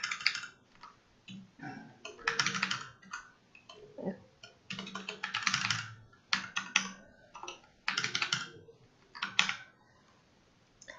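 Someone types on a computer keyboard nearby in quick bursts of clattering keystrokes, separated by short pauses, clear and moderately quiet.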